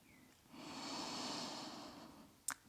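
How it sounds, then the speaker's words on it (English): A deep breath drawn in during a gentle stretching session, one slow, quiet airy inhale lasting about a second and a half, close and soft, followed by a brief sharp sniff. "Full breath in."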